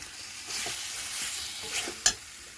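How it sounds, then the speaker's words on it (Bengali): Fried potatoes are stirred with spices in a pan, a soft close sizzle broken by a few scraping stirs and a sharp clink near the end. "আলুটা দিয়ে কষিয়ে নেব।"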